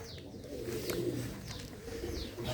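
Pigeons coo in soft repeated calls at a Mansa pigeon keeper's loft, with faint chirps from smaller birds over a steady low background hum; no one speaks.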